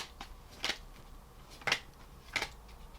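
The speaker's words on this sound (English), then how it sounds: "It's hard to shuffle because it's like velvety." Soft riffling shuffles of velvety tarot cards, three short scratchy bursts spaced apart, close by with no talking.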